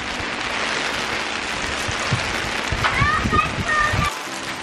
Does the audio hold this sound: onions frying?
no